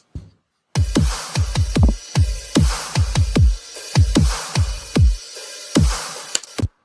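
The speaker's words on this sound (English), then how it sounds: "So here are the drums together" Programmed drums play loud and alone: a punchy main kick thumps in a quick, syncopated pattern with bright cymbal wash over it, the hits sharply separated by short gaps.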